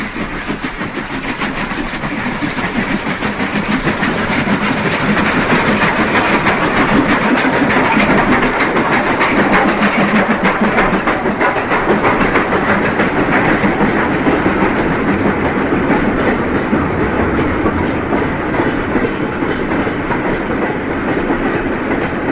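Twin McIntosh 812 class steam locomotives haul a freight train, a loud, continuous rumble of rolling wagons with rapid clickety-clack of wheels over rail joints, building slightly at the start and holding steady, no talk.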